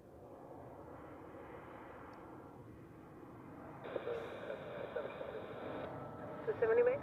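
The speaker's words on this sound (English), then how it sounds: "we continue with the next landing. Austrian Airlines from Vienna" Austrian Airlines plane from Vienna landing at Zurich Airport, a steady broad engine roar heard from a distance, swelling louder partway through, with a voice talking over it.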